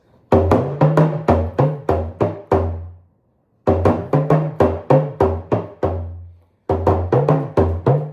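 A drum is struck sharply with a hard stick in three bursts of evenly spaced, ringing hits, each group separated by a short pause.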